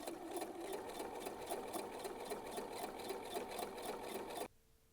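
A sewing machine runs steadily, stitching down the center of a zigzag edge-finish on a garment back vent, its rapid needle rhythm continuous and close for about four and a half seconds before stopping abruptly.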